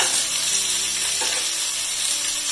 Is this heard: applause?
no